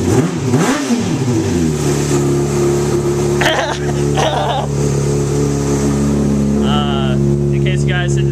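Honda CBR600 or Suzuki GS500 motorcycle with an aftermarket exhaust starts up and settles into a loud, steady idle with a brief rev at the start, heard up close while people talk briefly over it.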